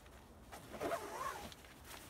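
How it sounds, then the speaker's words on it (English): A single zipper pulled up on Frogg Toggs Pilot II insulated waterproof rain bibs over a boot, a brief rising rasp in a quiet room. "Get them down over your boot, zipper them up."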